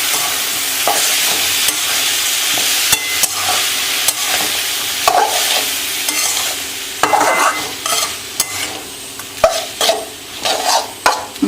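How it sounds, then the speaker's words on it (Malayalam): Long beans and raw plantain are stirred in a hot pan for a Kerala stir-fry, with a steady sizzle of frying under repeated scraping strokes of a spatula that grow more sharply spaced and clattery toward the end; no talking. "ഇനി ഒന്ന് ചിക്കി ഇളക്കട്ടെ കേട്ടോ"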